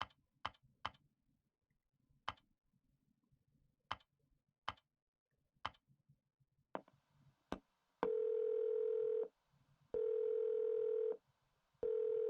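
Phone keypad in Silent Hill 4 being dialed: a series of sharp, separate clicks as digits are pressed, followed by two long, loud steady tones with a short gap between them.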